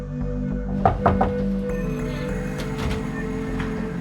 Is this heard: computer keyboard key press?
no